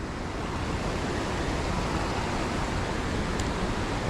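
Fast-flowing water in a shallow small Scottish river, a steady loud broadband rush that stays constant throughout with no breaks and no voices.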